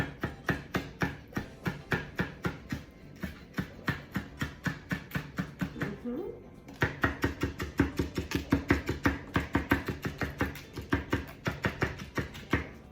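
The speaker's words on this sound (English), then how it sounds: "So there's about 8 anchovies in here. So I'm just gonna cut the whole thing, which is pretty much mince." A knife mincing about eight anchovies on a cutting board makes rapid, evenly spaced chopping taps, close and crisp, with a brief pause midway before the rhythm resumes slightly louder and faster, no talking.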